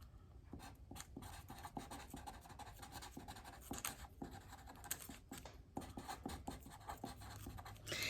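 Pen scratching across paper as a name and birthday are handwritten three times in a row, a steady run of close, dry strokes with brief pauses between words, no talking.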